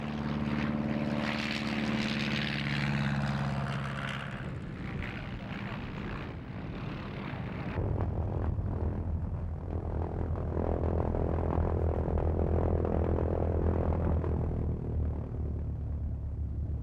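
A light propeller aircraft engine drones loudly and steadily at an air rally at Wroughton, the pitch and roar shifting midway as the plane powers up and takes off, with no other sounds standing out.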